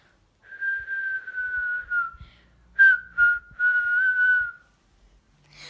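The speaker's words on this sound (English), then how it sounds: "I just learnt to whistle." A child whistles a few clear notes: a long sustained tone, a pause, then two short chirps followed by another long tone, close and fairly loud with slight room noise.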